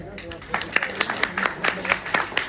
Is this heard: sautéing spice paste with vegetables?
no